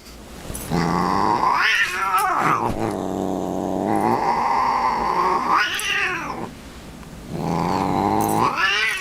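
Cats in a fight yowl in long rising and falling caterwauls broken by deep throaty growls, loud and close, coming in several drawn-out bursts with brief lulls between.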